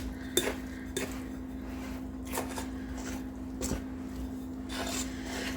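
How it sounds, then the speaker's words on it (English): A fork stirs milk into flour in a bowl for vegan no-oil homemade biscuits. Soft, quiet scraping strokes repeat at an uneven rhythm over a faint steady hum. "Grab a fork and then you just stir"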